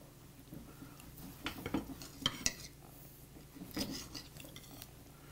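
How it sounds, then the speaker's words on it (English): A knife cutting into cooked filet mignon steaks on a plate, faint scraping and a few soft clinks of blade and cutlery against the plate, quiet and close, with no talk. "I'm going to cut right into them."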